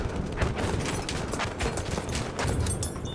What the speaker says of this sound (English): AA gun spotted!